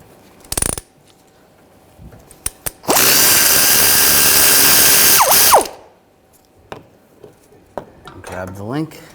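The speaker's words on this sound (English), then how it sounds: "you can pull the link out of the bracket using a 17mm wrench and a 16mm socket" A power tool whirs loudly for about three seconds while removing a sway bar link nut on a 2007-2013 BMW 328i with a 17mm wrench and 16mm socket, framed by metallic clinks and taps and someone talking.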